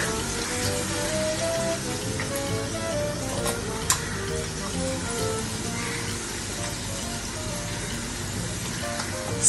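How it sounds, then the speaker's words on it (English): Raw peanuts with turmeric and green chili sauté in a hot pan, making a steady, close crackling sizzle that continues throughout with a few sharper pops. "saute this for a while till the peanuts get slightly brown"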